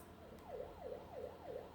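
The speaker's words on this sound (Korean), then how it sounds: "이렇게 길게 늘어지는 소리는 환자 이송을 할 때 또는 응급 상황에 사용한 사이렌입니다." Korean police patrol car siren in the long, drawn-out emergency mode, rising and falling in smooth repeated wails, fairly faint and distant.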